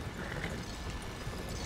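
Horse hooves plodding along in Red Dead Redemption 2, a steady soft clip-clop of walking steps, close and quiet against a dense ambient background.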